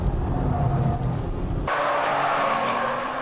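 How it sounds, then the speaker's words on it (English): Porsche 996 Turbo and Nissan GTR race cars braking hard side by side on a circuit, a loud engine roar that cuts abruptly into a bright tire squeal and skid, close and continuous. "A braking duel with the GTR."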